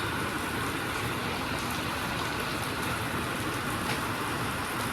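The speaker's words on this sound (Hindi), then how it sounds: "बारिश आ गई है भाई तेज" Heavy rain pours steadily outdoors at a road construction site, a dense, continuous hiss at even loudness throughout, with no voices.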